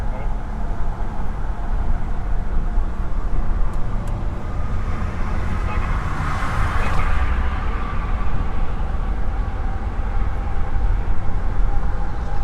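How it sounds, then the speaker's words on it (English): A train passes somewhere in a city, a low continuous rumble with traffic noise, and a faint horn-like swell near the middle, while people talk over it. "I hear a train somewhere."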